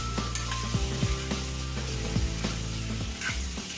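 Dry spices sizzle and fry in a pan for Assamese-style matar paneer, with a constant close crackle broken by scraping stirs and knocks of the spoon against the pan.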